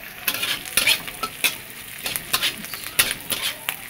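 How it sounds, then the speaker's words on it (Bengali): Onions sizzling in hot oil in a pan while a utensil stirs them, with a steady frying hiss broken by irregular scraping strokes, close and clear, no voices. "পেঁয়াজগুলো একটু ভাজা ভাজা হবে।"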